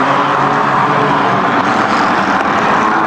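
Race cars roar down the front straightaway of an oval track, a loud continuous engine drone with no pauses, steady and close throughout.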